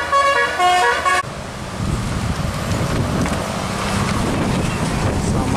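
A tanker trailer truck rolls past on a road, a steady broadband rush of engine and tyre noise that holds level throughout, preceded by a brief tonal horn-like note at the very start.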